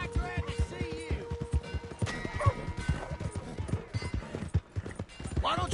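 Horse hooves clip-clop in Red Dead Redemption 2, a run of sharp irregular hoof strikes close by, mixed with a neigh, game effects and tonal background sounds.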